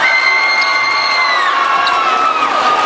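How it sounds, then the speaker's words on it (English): A high school boys basketball crowd cheers and shouts loudly and steadily, with whoops and kids' voices in a packed gym during a timeout in a close game. "And this crowd is into this game"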